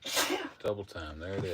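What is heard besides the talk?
woman sneezing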